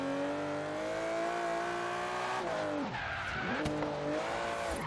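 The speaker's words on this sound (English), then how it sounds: "Now, I can't lie, it's actually drifting really nicely." An Aston Martin with a V12 engine drifts in the video game Forza Horizon 3, its engine droning steadily with squealing tires, the pitch dipping and rising again as it slides, close and continuous.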